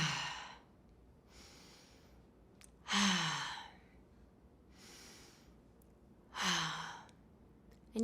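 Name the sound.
three rounds of deep breathing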